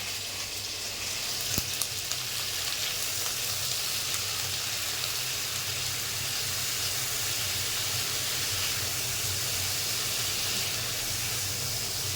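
Onion, garlic, ginger and garam masala fry in hot ghee with a dense, even hiss and sizzle that runs steadily throughout, with a single brief knock early on.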